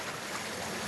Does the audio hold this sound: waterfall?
yes